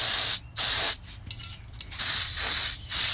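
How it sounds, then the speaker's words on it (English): Brake cleaner sprayed on new brake rotors, several close, loud hissing aerosol bursts separated by short pauses, the middle ones briefer and choppier. "if you want to clean these rotors, get some brake cleaner"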